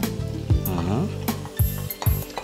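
Tomato and garlic go into a hot pan, bringing a burst of sizzling with a few heavy clunks and a clink of cookware, while a tonal voice-like sound carries faintly through the frying.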